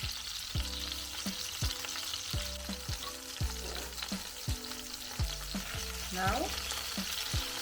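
Honey mustard chicken browns in a hot frying pan, a steady loud sizzle with stirring scrapes throughout and a repeating tonal musical pattern beneath.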